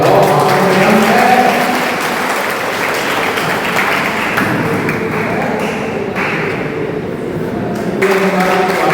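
An audience at a career guidance event in Sujangarh keeps up loud, steady applause and cheering in a hall, with a few voices mixed into the clapping throughout.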